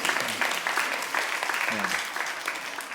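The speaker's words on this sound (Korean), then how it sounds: "박수 한번 해주세요." A church congregation claps during a Sunday morning service in Korea, a moderate wash of applause with uneven bursts and a few faint voices mixed in, lasting a few seconds.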